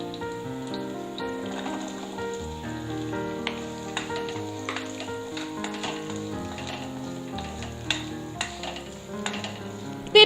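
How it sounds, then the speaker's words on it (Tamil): Small shallots frying with garlic in oil for onion chutney, a continuous soft sizzle with occasional light stirring taps, alone without voices. "பூண்டு வதங்கிட்டு இருக்கும் போதே ஒரு 20 சின்ன வெங்காயத்தை சேர்த்துக்கலாம்."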